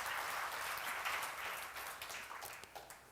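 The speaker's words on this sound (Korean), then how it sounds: "박수로 맞아주시면 하나님 뜻대로." Congregation applause during a church seminar on Joshua, a broad wash of clapping that is fairly faint and distant, thinning toward the end as individual claps emerge.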